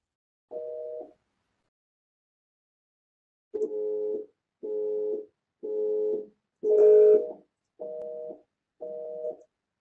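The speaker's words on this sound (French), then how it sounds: "la tonalité d'occupation, vous en avez des exemples, hein, ça change en fonction des pays d'ailleurs" French and North American telephone busy tones: a single steady tone burst, a pause, then a run of evenly spaced beeps with short gaps between them, clear and alone with no talk.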